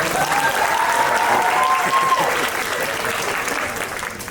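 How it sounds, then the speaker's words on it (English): Dense, sustained applause from an audience at an evening pageant, a steady wash of clapping and crowd noise that gradually softens toward the end, with a bright tone cutting through early on. "One more round of applause about another."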